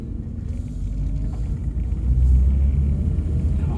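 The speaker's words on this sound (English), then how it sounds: "let's go on the open road for the first time" Steady low engine and road rumble from a first-generation Ford Mondeo, rescued from a scrapyard, heard from inside as it drives on an open road, loud and continuous, swelling slightly toward the end.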